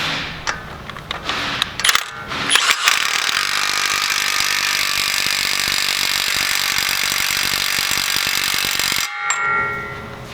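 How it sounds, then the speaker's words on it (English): A Milwaukee mid-torque 1/2-inch impact wrench tightens an axle nut, a few opening clicks and then a long loud continuous hammering rattle, heard close and alone, stopping sharply before a short tail. "We're just going to give it a run with the mid-torque and see what it puts it at."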